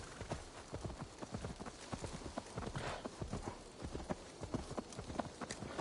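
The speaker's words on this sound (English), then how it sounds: "Now to deliver Magni his horse" Horse hooves clip-clop in a quick, steady rhythm in the video game Assassin's Creed Valhalla, close and clear, with a faint bit of voice now and then.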